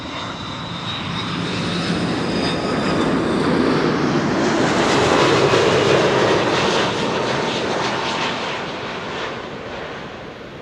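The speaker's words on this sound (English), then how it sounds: "after this we are going to get the second 747 of the show" An Atlas Air Boeing 747 arriving from Miami at Amsterdam Schiphol Airport on a windy day roars loud and steady, swelling to a peak midway before easing slightly, with no voices over it.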